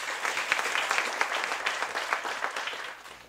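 Lively applause from an audience at a university thesis presentation event, many hands clapping densely and continuously before thinning out at the end.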